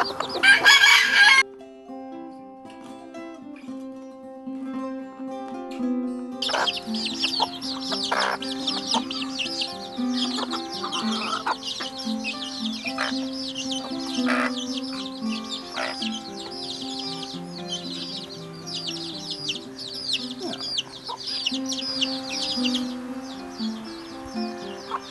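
Free-ranging chickens, cockerels and hens in an organic forest garden, cluck steadily while a rooster crows, with birds chirping in the background over a sustained, moderately loud stretch and no talk.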